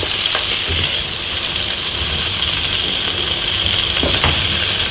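Potato stir fry being stirred in a hot pan, with a steady close sizzle and hiss of frying and the scrape of a spoon moving through the food.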